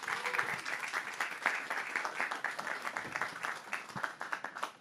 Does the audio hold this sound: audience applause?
yes